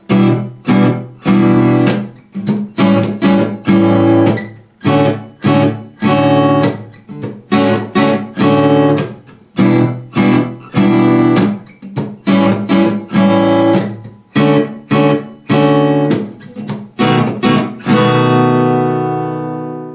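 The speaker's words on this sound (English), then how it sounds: "Play those as open chords using the same strumming pattern over the same chord progression" Steady strummed open guitar chords for a song ring out in a repeating rhythmic pattern, full and close, with the last chord left to sustain and fade.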